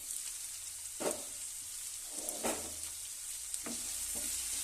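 Food cooks in a covered pan over a low flame, giving a steady soft sizzle broken by a few scraping stir or lid clatters, quiet and close.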